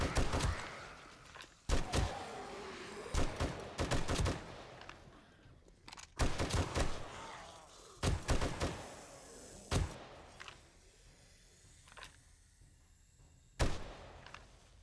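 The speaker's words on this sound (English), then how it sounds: "I just heard a landmine go off, and I'm sure I saw the sparks as well" A landmine detonating in the video game 7 Days to Die, set off in a wasteland city during a roaming horde: a series of sharp, loud blasts and bangs at irregular intervals, each decaying quickly, with no talk.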